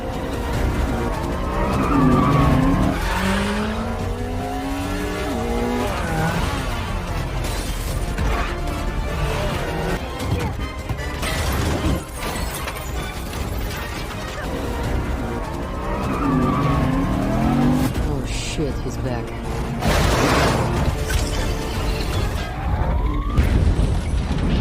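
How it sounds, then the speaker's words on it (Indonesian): Cars fleeing and pursued in a film chase scene: revving engines, tire skids and loud impacts or bursts recur throughout, dense and close, with heavy crashes near the start and middle. "Tapi mereka mencoba kabur dengan mobil, namun terus dikejar oleh Taskmaster dan agen tersebut."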